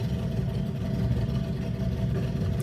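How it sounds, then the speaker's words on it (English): A neighbor's loud motorcycle warms up nearby, producing a steady low idling engine drone that holds at a constant level throughout, heard from inside a car. "My neighbor got this loud motorcycle."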